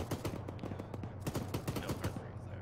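Rapid bursts of automatic gunfire in a military shooter video game, crackling volleys of quick shots at moderate distance, fairly faint, with voices in the background.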